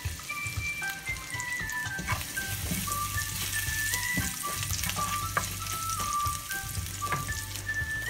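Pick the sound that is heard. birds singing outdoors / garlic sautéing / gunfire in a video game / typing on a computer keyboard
garlic sautéing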